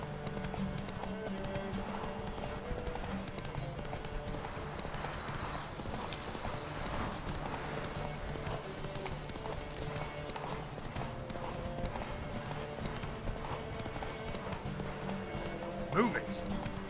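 A horse gallops in The Witcher 3 on PS4 Pro, its hooves drumming in a steady, rapid rhythm for the whole stretch, close and clear over background game music, with occasional voice sounds.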